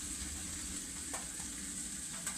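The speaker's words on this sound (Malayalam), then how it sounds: "അപ്പം നമുക്കിനി ഈ ഫിഷ് ഇതിലേക്ക് ഇട്ട് കൊടുക്കാം കേട്ടോ." Steady, fairly quiet sizzle of masala in a hot pan as Siloba white tuna goes in, with a couple of faint stirring scrapes over the continuous frying hiss.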